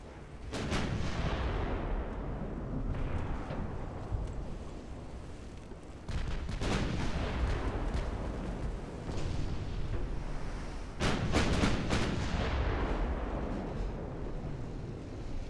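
Naval gunfire in the warship game Ultimate Admiral: Dreadnoughts, French campaign: three loud booming salvos, each followed by a long, dense rumbling roar that fills the gaps.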